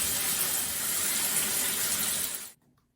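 Shower water sprays and splashes in a steady hiss for over two seconds, then cuts off abruptly into near silence.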